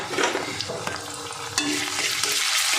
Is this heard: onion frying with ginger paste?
yes